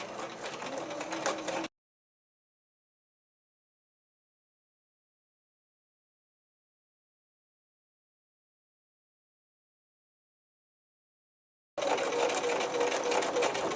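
A sewing machine stitches fabric for a backpack for an 18-inch doll in two short, steady bursts, one at the start and one near the end, separated by about ten seconds of silence.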